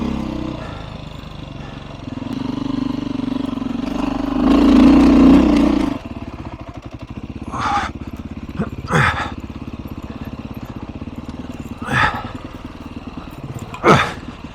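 A Beta 500 RRS dirt bike engine lugs in second gear on a rocky Colorado forest trail, a steady mid-pitched drone that swells briefly louder, with scattered clanks and knocks from the bike bouncing over rocks.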